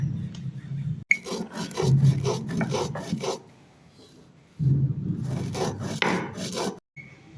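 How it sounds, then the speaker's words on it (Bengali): Roasted spices are ground by hand on a stone shil-pata slab, a rough rasping scrape in two long bursts of back-and-forth strokes, close and loud, separated by a quiet pause. "আমি শিলপাটায় বেটে নিচ্ছি, কারণ শিলপাটায় বাটলে তরকারি একটু বেশি সুস্বাদু হয়"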